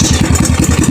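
A Kawasaki KLX trail motorcycle fitted with an aftermarket exhaust idles close by, giving a loud, rapid, evenly throbbing putter.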